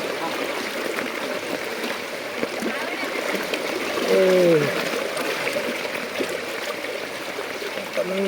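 Knee-deep floodwater rushes steadily past in a flooded village, a continuous broadband wash of flowing water with small splashes, and a voice speaks briefly partway through.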